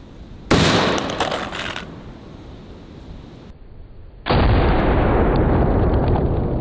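Shotgun firing a .50 BMG round into a ballistic gel block, one sharp, loud blast followed by a decaying rumble, then a later sustained loud roaring burst of noise.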